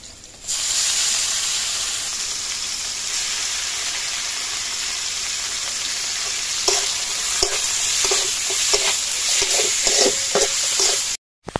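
Chicken frying with chopped onion and salt in a pan for Bangladeshi chicken singara filling, a loud continuous close sizzle with rhythmic scraping stir strokes in the second half.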